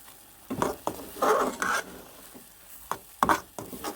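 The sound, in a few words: stirring and roasting carrot halwa in a pan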